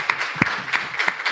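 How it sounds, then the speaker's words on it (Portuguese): Scattered claps from a small audience at a research and extension conference, a brief, loose patter of individual hand claps at close range. "uma salva de palmas, professor."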